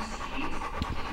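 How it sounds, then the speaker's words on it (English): A heavily pregnant Cane Corso dog pants rapidly and steadily just before going into labor, quick close breaths repeating throughout at moderate loudness with no talking. "She's been panting like crazy."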